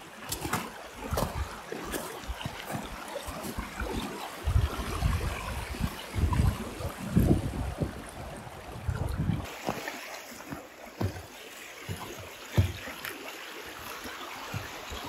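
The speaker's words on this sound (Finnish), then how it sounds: "Tässä on tämmönen oikein komea puro." A sizeable forest stream near a lean-to shelter in Sarpatti, Jyväskylä, in late March, rushing and gurgling steadily for the whole stretch, broadband and close, with gusts of wind buffeting the microphone.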